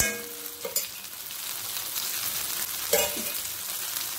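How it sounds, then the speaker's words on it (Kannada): Mackerel masala with curry leaves fries in hot oil with a steady, fairly quiet sizzle. A couple of sharper clinks and stirring scrapes break through near the start and again midway, and no one speaks. "ಇನ್ನು ಸ್ವಲ್ಪ ಆಯಿಲ್ ಇದರ ಮೇಲೆ ಹಾಕ್ಕೊಂಡು ಫ್ರೈ ಮಾಡಿಕೊಳ್ಬೇಕು."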